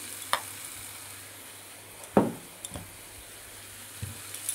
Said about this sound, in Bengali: এবার দেব পেঁয়াজ, আদা, রসুন পেস্ট করা রয়েছে সেটাও দিয়ে দিচ্ছি